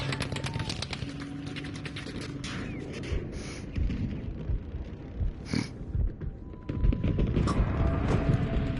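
Battlefield V gunfire pops in a steady stream of distant and mid-range shots with occasional louder bursts and booms, over a constant background of battle ambience.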